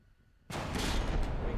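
A crown cannon fires in the naval battle game From the Depths, a sudden loud blast that rolls into a sustained roar of heavy gunfire and explosions after a quiet start.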